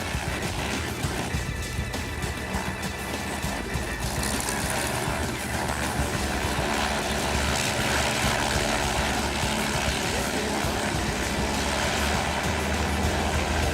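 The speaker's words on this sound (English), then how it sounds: "everything these airplanes do is in formation, from starting the engines to taxiing out" Several Lima Lima aerobatic propeller airplanes run their engines together at an airshow in Danville, Virginia, a loud, continuous droning roar close by with a rising intensity partway through.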